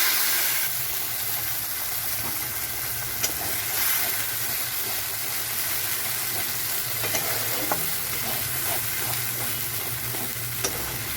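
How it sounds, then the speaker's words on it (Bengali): Cashew spice paste for paneer masala going into hot oil and being stirred, giving a steady broad sizzle with occasional scraping clicks of the spoon, close and continuous with no talking. "এবার এই যে পেস্টটা তৈরি করেছিলাম এই পেস্টটা দিয়ে দেব।"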